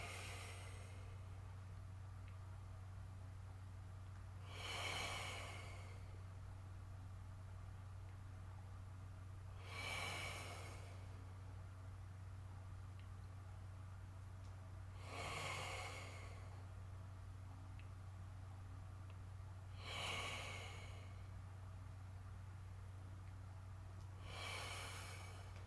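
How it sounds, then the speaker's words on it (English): Five slow, regular exhalations during a qigong session, each a soft breathy whoosh into cupped hands, evenly spaced about five seconds apart over a steady low hum, with no talking. "breathe out into your hands"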